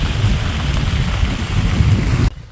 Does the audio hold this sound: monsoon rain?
yes